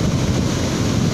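Sea waves surge toward the shore in a loud, continuous rushing wash, heavy with low roar and wind buffeting the microphone, close and unbroken throughout.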